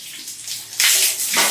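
Water gushes out of a tank in hot summer weather, a loud rushing splash that surges strongly midway and keeps pouring, with no voices.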